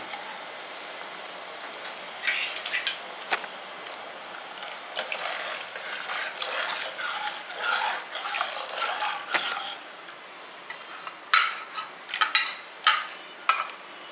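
Ragi flour batter is poured into a pot and stirred, giving soft scraping and clinking utensil sounds that grow louder and sharper toward the end, close and without voices.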